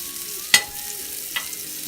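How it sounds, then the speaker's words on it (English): Vegan burger patties on a griddle sizzling with a low steady hiss, broken by a sharp scrape and clack as a spatula flips them, then a quieter second tap, close and without talk. "now we're gonna flip these burgers"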